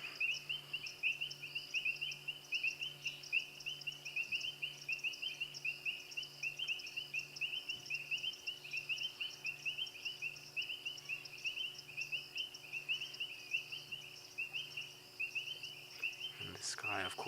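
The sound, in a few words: frogs calling at night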